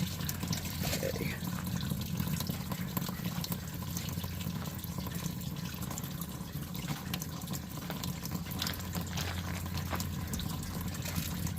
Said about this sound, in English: Give those another rinse because stuff might have gotten down onto them from there.